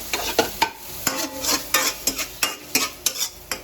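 Garlic and onion sautéing in a hot pan for chicken feet adobo, loud sizzle broken by a quick, regular run of stirring scrapes from a spatula, close and with no talking.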